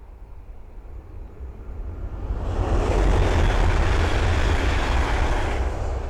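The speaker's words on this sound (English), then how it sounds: "the next train to pass by is an East Midlands Railway Meridian from Nottingham to London St Pancras" An East Midlands Railway Meridian train from Nottingham to London St Pancras passes at Ayres End Lane on the Midland Main Line, a broad rushing roar swelling from quiet to loud and holding steady.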